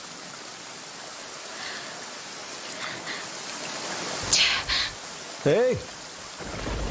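Steady rain pours throughout a dramatic scene, with low thunder rumbling underneath and a couple of short voice exclamations cutting through the downpour.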